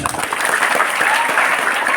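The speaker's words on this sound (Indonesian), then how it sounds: "Tepuk tangannya" A crowd claps at a Maulid Nabi religious gathering, a short, fairly soft burst of applause without speech over it.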